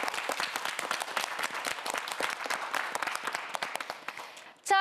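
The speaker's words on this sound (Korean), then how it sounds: "큰 박수 부탁드립니다" Studio audience applause for a student contestant on the Korean TV quiz show QUIZ 킹왕짱, a dense, steady wash of clapping lasting nearly five seconds before cutting off into a brief tonal blip.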